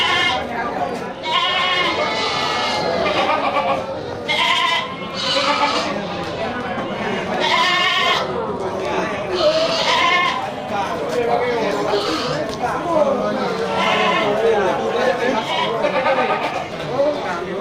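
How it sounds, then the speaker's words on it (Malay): Goats bleating repeatedly over a busy crowd at Grogol livestock market, with many overlapping cries near and far and constant background chatter. "di longkang bagian pasar kambing juga ini banyak terlihat kambing bandot kecil ya"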